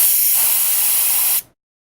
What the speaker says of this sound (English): Check that the coil is leak-free by releasing the nitrogen as shown here.